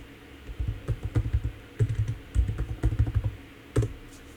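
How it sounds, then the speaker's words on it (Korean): Typing on a computer keyboard, close and fairly quiet, in short uneven bursts of rapid clicking keystrokes with brief pauses between them and no talking. "제가 굿이라고 타자를 해버렸나요?"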